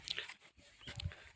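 A dog on a rural Gujarat farm with cattle gives a few brief, faint barks or yelps, low in level and somewhat distant against quiet background noise.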